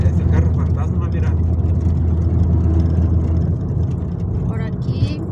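A car drives along a road in Ziracuaretiro, Michoacán, its engine rumbling steadily and loudly throughout, with people talking over it.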